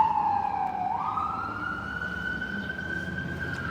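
An emergency vehicle siren in New York City wails with a long rising sweep, held steady and fairly loud over a low traffic rumble.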